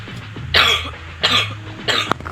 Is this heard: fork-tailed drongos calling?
no